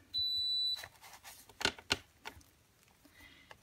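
A small electronic device in a room gives a recurring high-pitched beep, a steady tone lasting about half a second, followed by faint tapping and rustling sounds.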